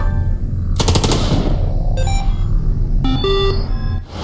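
Incendiary bullets fire in the video game Long Gone Days as a loud, rapid burst of gunfire, then bright electronic beeps and tones follow over a constant low rumble.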